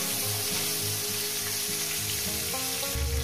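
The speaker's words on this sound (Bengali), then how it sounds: "দিয়ে দিলাম, দিয়ে এটাকে 1 মিনিট একটু ভেজে নেব" Brinjal frying in mustard paste with salt, a dense continuous sizzle under steady background music, no one speaking.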